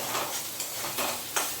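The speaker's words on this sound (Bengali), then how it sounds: "এবার খুব ভালো মতন করে আমি মশলাটাকে কষিয়ে নেব" Spice paste for a sweet pumpkin and potato chhokka sizzles in a pan, with a few scraping stirs breaking through the steady hiss; close and fairly quiet, no voices.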